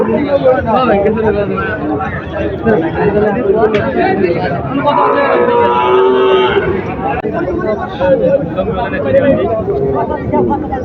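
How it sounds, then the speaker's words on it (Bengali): Calves moo loudly amid a busy crowd, with constant chatter and talking around them in a noisy outdoor cattle market. "অনেক সুন্দর বাছুর এগুলো"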